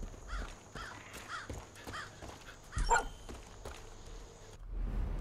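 A dog in the Far Cry 5 video game barks in a rhythmic series of sharp, mid-distance woofs, followed by a louder burst and then quieter game ambience.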